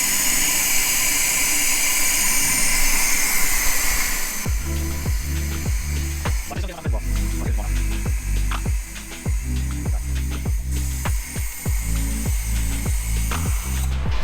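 A suction pump drains brake fluid from a scrapped end-of-life car during depollution. A steady hissing draw leads into a rhythmic, repeated mechanical pumping pulse that continues loud and close.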